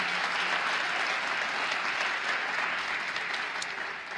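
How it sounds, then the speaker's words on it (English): An audience at a Bronx State of the State event at a college applauds in a loud, sustained wash of clapping that holds evenly for about four seconds and fades slightly at the close. "Another round of applause for Elisa Lannon"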